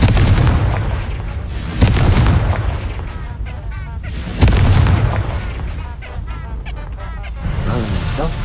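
A Confringo fire spell in Hogwarts Legacy bursts in heavy booming explosions, two strong blasts separated by a few seconds with rumbling tails and lighter crackles, loud and close.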